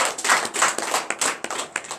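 A church congregation claps in acclamation during a night deliverance and prophecy service, a dense, steady burst of many hands lasting about two seconds with no voices.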